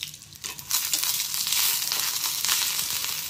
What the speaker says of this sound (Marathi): हे सगळं असं 1-2 मिनटं भाजून घ्यायचं।